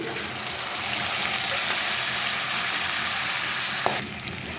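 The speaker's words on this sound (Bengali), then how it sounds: "দেখো ফ্রাই হচ্ছে" Fish head fries in fish oil with turmeric in a pan, giving off a steady, dense sizzle that is close and loud. The sizzle runs unbroken and changes slightly near the end.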